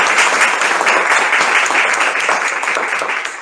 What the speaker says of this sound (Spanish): Un aplauso muy sonoro